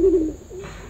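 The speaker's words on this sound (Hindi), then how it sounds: "कबूतर" A single soft pigeon coo, low and throaty, close by and brief against quiet background hum.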